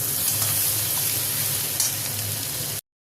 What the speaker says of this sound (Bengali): পেঁয়াজটা একটু ভাজা ভাজা হয়েছে এবং মশলাগুলো সব একবারে দিয়ে দিয়েছি